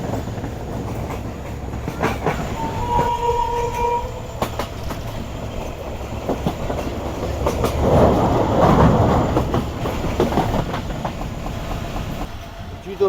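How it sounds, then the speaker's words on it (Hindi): A passenger train on Pakistan's ML-1 line, running from Mirpurkhas to Karachi, rumbles steadily into Tando Jam railway station amid open farmland. A horn tone sounds briefly and the rolling noise builds and swells near the end. "ट्रेन हमारी अप्रोच बना रही है टंडो जाम रेलवे स्टेशन पर"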